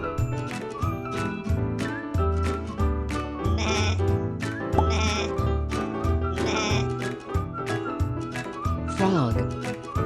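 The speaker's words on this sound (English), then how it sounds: "Goat." A goat bleats in a kids' farm-animal sound sequence, the call repeating several times over a steady backdrop of music.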